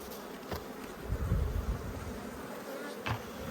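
Honeybees buzz in a dense, steady hum close by as a beekeeper shakes frames, with a few sharp knocks and a brief low thump from the frames.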